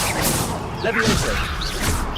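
Levioso levitation spell cast in Hogwarts Legacy, a bright magical whoosh with swirling shimmer and a soft impact, steady and fairly loud over game ambience without talk.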